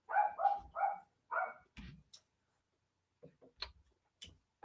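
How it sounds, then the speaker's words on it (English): A dog barks in a quick run of three or four sharp, moderately loud barks, followed by a pause and a few quieter, scattered yips and clicks; no one is talking. "You guys like that dog you're hearing?"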